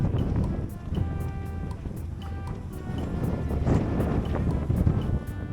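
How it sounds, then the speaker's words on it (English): Steady wind buffets the microphone on the French Riviera coast near Nice, a continuous low roar with light splashing and faint chimes, no one speaking. "it was quite windy, which is very common along the French Riviera"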